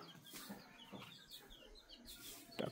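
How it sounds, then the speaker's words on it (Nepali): Local chickens clucking at a household farmyard, a few faint, scattered clucks and squawks spread across the moment with a slightly louder burst near the end, quiet background. "लोकल कुखुरा चाहिँ यता छ"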